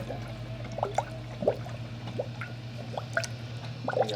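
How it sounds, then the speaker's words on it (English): Coolant gurgles and drips inside the upper radiator hose of a 1999-2004 Jeep Grand Cherokee as the hose is squeezed to bleed air, giving a series of soft, close bubbly pops over a steady low engine hum. "You can grab your upper radiator hose right here, and you squeeze it, and look, you can make the volcano erupt."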